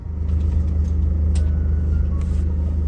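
Sprinter van driving down a dark road at night, a steady low engine and road rumble close up with no voices.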